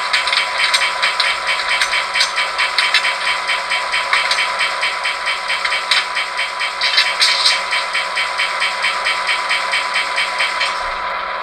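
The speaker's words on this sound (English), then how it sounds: "you can hear the air compressor come on. That is automatic, will turn on while we're idling here." A ScaleTrains Southern Pacific SD7R model locomotive with LokSound v5 DCC sound idles while its automatic air compressor chugs in a steady rhythmic pulse, rattling and close, ending abruptly.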